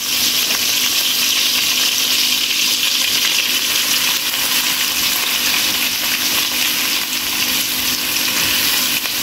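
Shrimp fry steadily in hot oil in a pan, giving a loud, continuous sizzle close by with no voices over it.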